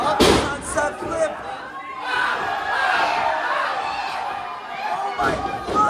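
Wrestling match at a Buddy Tomas and Bobby C versus Barbie Boy and Cha Cha Charlie bout: a sharp body slam onto the mat near the start, then a sustained roar of crowd noise and shouting that swells and stays loud throughout.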